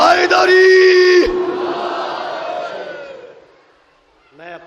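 A large crowd at a Muharram religious gathering in Sultanpur, India, raises a loud collective chant of the slogan Haidari, voices swelling together then fading, followed by a brief separate shout.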